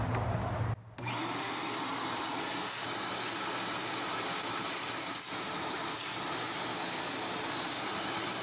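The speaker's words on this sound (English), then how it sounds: "Take a shop vac and clean up all the stuff that was under the intake manifold." A shop vac runs steadily, cleaning debris from under the intake manifold of a Chevy 5.3 Vortec LS engine, a loud continuous whooshing roar after a brief dip at the start.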